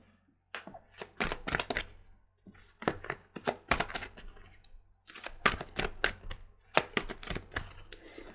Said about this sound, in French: On va bien battre les cartes.